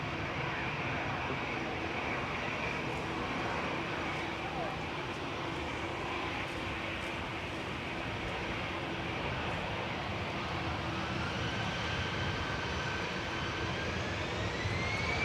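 An Aer Lingus jet airliner departs Manchester Airport for Dublin, its engine roar steady and moderately distant, with a faint rising whine near the end and people talking over it.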